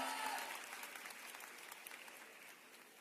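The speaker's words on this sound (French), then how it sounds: "Merci messieurs, applaudissements." Steady applause from an esports tournament crowd, many hands clapping at once, fairly loud at first and easing slightly toward the end.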